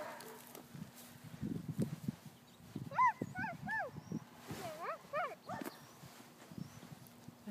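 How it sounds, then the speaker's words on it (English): A dog barks in a few sharp bursts partway through, with soft whimpery tones, while faint voices murmur quietly in the background. "she hears that dog barking"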